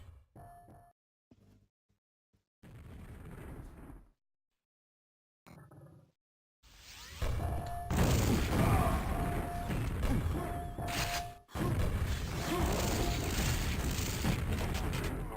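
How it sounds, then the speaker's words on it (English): Rocket launcher explosions and dense weapon fire in a Quake match come in short broken bursts at first, then build into a loud, continuous barrage of blasts and crashes with a few clear booms. "Oh, that was a nice rocket."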